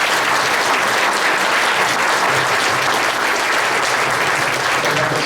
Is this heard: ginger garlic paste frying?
no